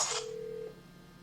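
A hosted VoIP phone call forwarding to a cell phone gives a single short electronic ringback tone after a brief burst of hiss, then quiet line noise.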